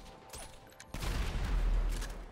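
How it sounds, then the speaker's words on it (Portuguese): Distant explosions rumble in GTA 5, a sudden deep low boom that breaks in partway through and then rolls on as continuous muffled rumbling, moderately loud, with no talking. "Tô escutando explosões lá em cima."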